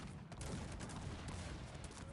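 Dense, continuous volleys of cannon and musket fire crackle and boom in a battle in the video game Cossacks 3, faint and distant-sounding, with no talking.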